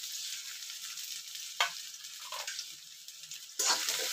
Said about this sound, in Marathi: इथे मी तेल याच्यात कढईत थोडंसं तेल टाकलं. बघा, इथे मी कांदा टाकला.